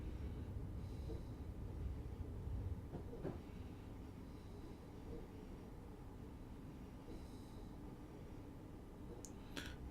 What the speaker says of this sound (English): I'm just going to cut the power out of the train now and just let it roll.